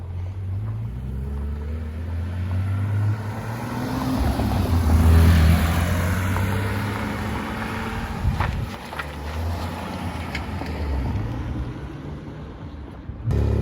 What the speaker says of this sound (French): Donc là la M3 ici à gauche était en cold start, donc c'est pour ça que elle fait du bruit.